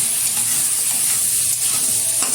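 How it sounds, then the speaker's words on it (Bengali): Drumstick pieces and potato are stirred and fried in a pan, making a loud, continuous sizzle with scraping strokes running through it and no voices. "সজনে ডাঁটা আলুটা আবার ভালোভাবে একটু নেড়ে চেড়ে নেব।"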